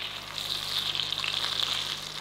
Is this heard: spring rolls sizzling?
yes